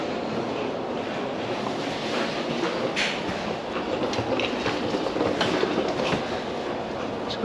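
A Los Angeles subway train runs with a steady, loud rumble and rail clatter that fills the whole stretch, with no voices.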